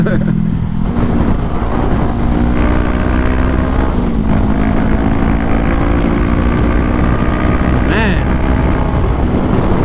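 A 2020 Honda CBR500R sport bike fitted with a modified rear sprocket accelerating on the road, its engine a steady loud drone that rises in pitch through the gears, with heavy wind rush throughout.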